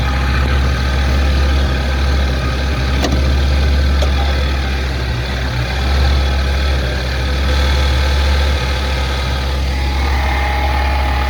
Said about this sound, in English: You definitely hear that pump whine, or the alternator whine.